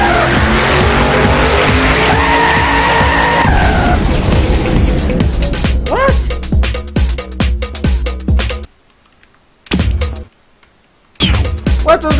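A race car engine in the LEGO Drome Racers video game whines and climbs under squealing, skidding tires, then breaks into sharp bangs and crackles as the engine blows up, with the sound cutting out into brief silences near the end.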